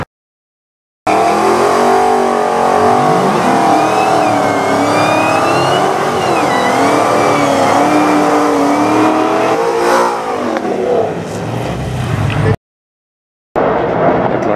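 A Cadillac CTS-V built by Izzy Performance and a rival car launch in a $5,000 heads-up drag race at Compass Speedway, a loud, sustained engine roar rising in pitch for about eleven seconds before cutting to silence.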